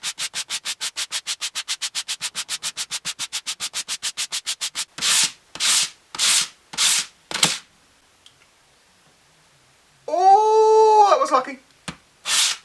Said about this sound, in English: Anyway, more sanding.